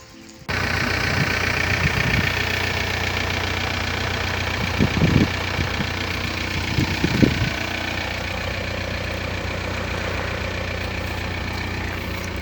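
A VW T4 van's engine idles while warming up, a steady close mechanical rumble with a faint knocking beat and a few brief louder surges partway through.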